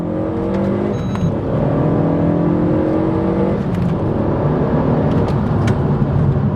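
A 2014 Renault Megane RS265 four-cylinder engine drones loudly from inside the cabin, pitch rising in repeated sweeps as it accelerates through the gears, with no voices.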